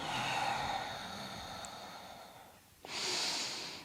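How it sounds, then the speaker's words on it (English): Slow breaths drawn in and let out through the nose during a gentle hatha yoga flow, a long soft airy exhale followed by a brief pause and a stronger close inhale, quiet and alone. "Breathing in through the nose and out through the nose."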